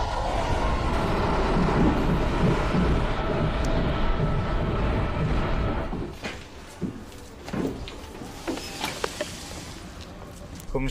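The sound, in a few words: old Russian train carriage moving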